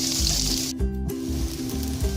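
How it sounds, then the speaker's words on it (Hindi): Sliced onions sautéing in hot oil that was just used for frying okra, giving a steady, close crackling sizzle with a low rhythmic pulsing underneath. "अब इसी ऑयल में प्याज को भी सौते कर लें।"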